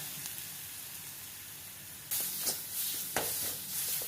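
Ground masala with mustard seeds, asafoetida and dried red chilli sizzles in hot oil for rasam, giving a soft, steady frying hiss with a couple of sharper spatter bursts near the end.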